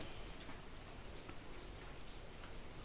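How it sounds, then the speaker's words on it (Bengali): Soft, steady rain patters on surfaces in the hills along a road near Khagrachhari, Bangladesh, a quiet even hiss with scattered drop ticks and one sharp tap at the end. "আসলে বৃষ্টির দিন"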